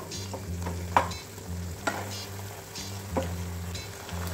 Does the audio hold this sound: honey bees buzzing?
no